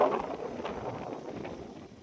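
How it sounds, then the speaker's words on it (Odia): Strong wind gusts during a cyclone in Niali, Odisha, a steady broadband rush with buffeting microphone noise throughout, fairly loud and with no voices. "ଆଜି ଭଲ ପବନ ଦେଇଛି ଏପଟେ"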